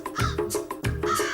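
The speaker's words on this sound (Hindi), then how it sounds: "तेरे चीख से कौवे उड़ गए।" Crows in an animated Hindi story cawing in quick succession, two loud harsh calls close together as the birds take off.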